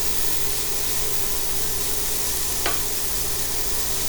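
Garlic stir-frying in a medium-hot pan, a loud continuous close sizzle with hissing spray and one brief scrape, no talk.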